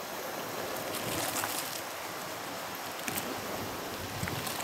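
Wool being hand-felted in soapy water, a steady close wet sloshing and squelching with soft splashes and bubbling suds, continuous throughout with no talk.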